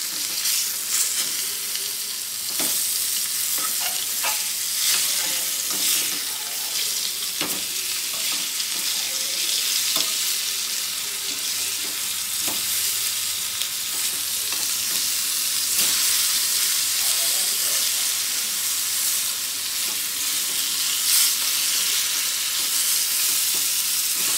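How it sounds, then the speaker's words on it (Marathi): Karli fish fries in oil and is flipped to cook the other side. A loud, dense, continuous sizzle carries on with faint scraping and clatter from the pan, and no voices. "मच्छी आता पलटी मारते. दुसऱ्या बाजूने शेकवते."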